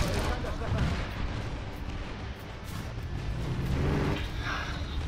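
A grenade going off in a PlayStation 2 shooter game: dense, booming blasts and rumbling gunfire fill the whole stretch at a loud, steady level, with a voice underneath.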